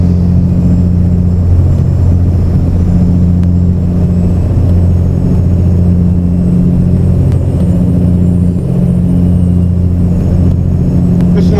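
Steady deep drone of a semi truck engine cruising on a highway in American Truck Simulator, a loud constant low rumble with road noise and no breaks.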